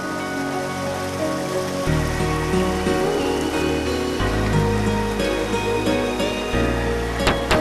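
Steady rain pours down outdoors in a hiss of drops spattering surfaces, continuous and fairly loud, with a low rumbling layer and a few sharper splashes mixed in.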